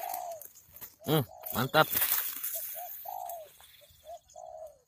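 Spotted dove cooing during bird trapping: a few soft, hollow coo phrases come from a short distance, and bursts of speech and other bird chirps break in between them.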